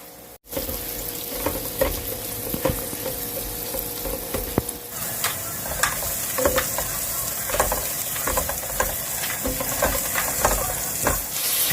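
Garlic sautés in butter in a pan with a steady, loud sizzle and hiss, broken by occasional scraping stirs, heard alone without talk.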